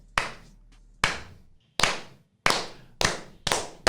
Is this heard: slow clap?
yes